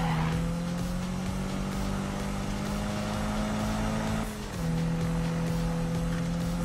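A car engine droning steadily at high revs in a Need for Speed racing game on PS4, with a sustained tire squeal over it and a brief dip in pitch near the end as the driver eases off.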